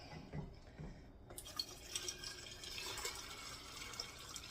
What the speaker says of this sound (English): I'm going to take the water and I'm going to go up to just below the 1-inch headspace